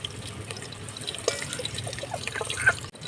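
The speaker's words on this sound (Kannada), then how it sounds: "ಈಗ ಇದಕ್ಕೆ ಹಸಿಮೆಣಸಿನ್ಕಾಯಿನ ಹಾಕ್ಕೊತಾ ಇದ್ದೀನಿ." Green chillies drop into hot oil in a pan over a stove fire and crackle as they fry. Faint, scattered pops and sputters sit over a low background hiss.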